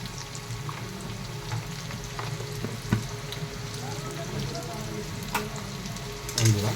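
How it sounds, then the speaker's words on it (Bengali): Ground chili, turmeric, cumin and coriander powders sizzle steadily in hot oil in a pan for a fish and potato curry, a continuous close crackle with a few soft clinks and one brief louder knock near the end. "মশলাগুলো কষিয়ে নিচ্ছি"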